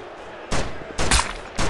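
Paintball gun fires three sharp bursts at close range, each a loud broadband crack with a short tail, spaced about half a second apart.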